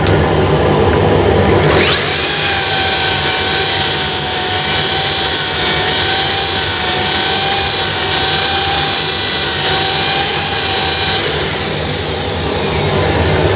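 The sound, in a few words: sanding a turned wood piece with 180 grit sandpaper on a lathe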